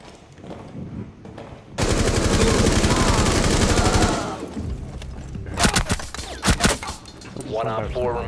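Gunfire in Rainbow Six Siege during a Hereford team deathmatch match: a loud, sustained automatic burst lasts about two seconds, followed by scattered single shots and impacts, with a voice speaking briefly.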